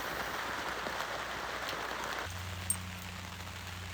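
Rain falls outside on a rainy day with hail. A steady, hissing patter lasts about two seconds and then gives way to a low, constant hum.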